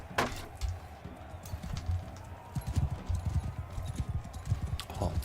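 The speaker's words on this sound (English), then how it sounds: "All these horses in the way." Horse hooves thud in a quick, uneven clip-clop of galloping mounts during a battle in Mount & Blade 2: Bannerlord, with sharp clashes at the start and end over a steady background din.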